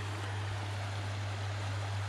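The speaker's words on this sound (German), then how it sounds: "Hier ist der Fluss, der Eremathos, ein bisschen weiter südlich." The Eremathos river in the Peloponnese hinterland of Greece flowing, a steady broadband rush of water at moderate level with a constant low hum underneath and no talk.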